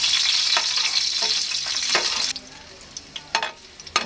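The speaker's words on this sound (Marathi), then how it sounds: "हे तेलामध्ये परतून घ्यायचं।" Drumstick leaves and green chillies sizzle steadily in hot oil for a shevgyachi paale bhaaji, a close, bright frying hiss that eases after a couple of seconds into quieter crackles with a few sharp pops.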